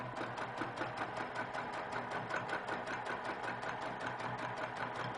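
A sewing machine stitches a quilt block in a steady, fast needle rhythm, running continuously and alone at moderate volume.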